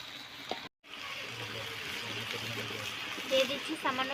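A small amount of water poured onto fish cooking with spices in a pan in a Bengali village kitchen, a quiet splashing and trickling that sits under someone talking.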